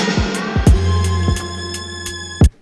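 An electronic beat plays, its drum hits and tones smeared by a reverb one-shot transition that washes out the rhythm into a lingering tail before a final hit cuts off.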